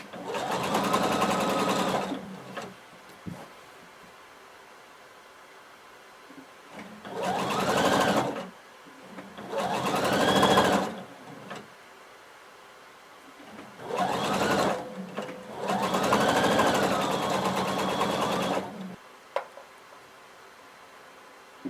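Sewing machine stitching through all layers of a cardigan band seam. It runs in five separate bursts of about one to four seconds each, close and steady, with quiet pauses between them.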